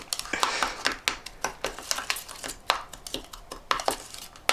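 A favourite wooden stick stirs a mixture in a container, giving repeated scraping clacks and knocks against the sides in an irregular rhythm, close and fairly quiet.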